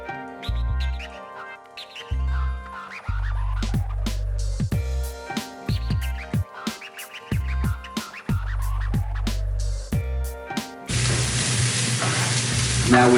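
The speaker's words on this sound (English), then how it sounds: "So we're gonna get my onions in the pan." Onions frying in a pan for shrimp and grits, with intermittent scraping and stirring strokes over a sizzle, ending in a loud, dense burst of frying hiss; low hum-like tones come and go beneath.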